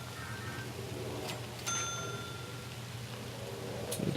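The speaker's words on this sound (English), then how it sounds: "Phone's going off or something" A phone gives a Twitter notification chime, a couple of brief bright tones over a low background hum, with a faint tick near the end and no talk.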